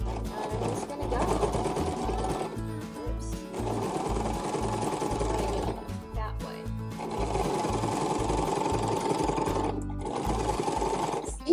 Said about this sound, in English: this home machine is stitching it pretty well